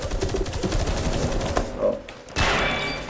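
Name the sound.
M14 EBR rifle tap-firing in video game Metro Conflict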